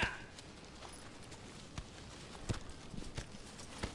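Horse hooves clop faintly and sporadically on the ground in the Shadow of the Colossus remake video game, a few soft, distant steps spread out over a quiet background.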